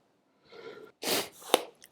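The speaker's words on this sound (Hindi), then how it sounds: "छींक आ गई थी एकदम से।" A single close, sharp human sneeze with a brief intake of breath before it, heard during a Hindi-language UFC 281 post-fight analysis, followed by a short snort.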